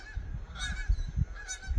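Geese honk several times in quick succession, loud and fairly close, with low rumbling noise between the calls.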